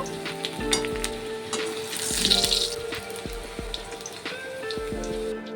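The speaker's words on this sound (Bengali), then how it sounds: "এই আলু ভাজা তেলের মধ্যে কিছুটা গোটা শুকনো লঙ্কা ভেজে নেব" Whole dried red chillies frying in hot oil left from frying potatoes, with a steady close sizzle and crackle, brief louder spitting bursts and occasional clinks of a utensil against the pan.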